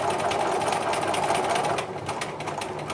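A sewing machine stitches free-motion quilting lines for a grid-based lollipop design, its motor whirring loud and continuous with a rapid needle rhythm, easing slightly toward the end; no voices.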